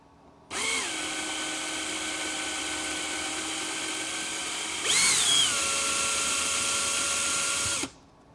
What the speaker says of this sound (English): Now let's see if I can drill it out a little bit more.